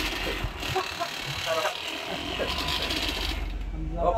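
Electric massager running while pressed against someone's back, a loud buzzing, rattling mechanical whir with a gear-like clatter, under steady conversation close by.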